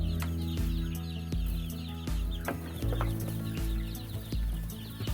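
Chickens in a poultry farm cluck and call repeatedly, fairly close and steady, over a background of farm noise with sharp intermittent knocks.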